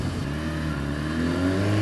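The engine of a 2015 BMW S1000RR motorcycle revs up, its pitch climbing steadily over a couple of seconds, loud and close, with no voice.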